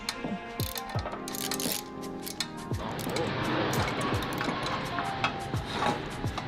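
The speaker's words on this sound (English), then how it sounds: "you're gonna have to use a ratchet to get to." A ratchet clicks while turning bolts to fit strut bracing on a Subaru WRX, giving quick uneven clicking bursts with metallic clinks and shuffling mechanical handling.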